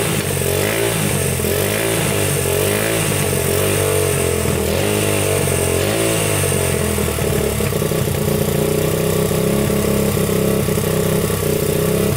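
A Honda ATC 200X engine idles close by, a continuous loud chugging putter with a slightly uneven rhythm, running steadily throughout.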